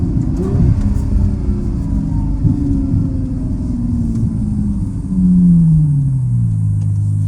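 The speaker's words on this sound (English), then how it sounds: "So with the valve off, the idle is much louder." A 2016 Ferrari F12 Berlinetta V12 fitted with an FI exhaust idles with its exhaust valve off, a loud, deep, steady rumble that swells slightly near the end as the engine note shifts.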